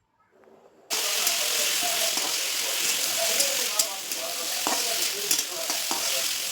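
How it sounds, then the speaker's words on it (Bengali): Ridge gourd sautéing in a pan with ginger and green chilli paste for a potato and drumstick lentil-fritter curry, a steady close sizzle starting abruptly after a quiet moment, with occasional stirring clinks over the frying. "সামান্য আদা ও কাঁচা লঙ্কা বাটা দিয়ে 2-3 মিনিট কষিয়ে নিন"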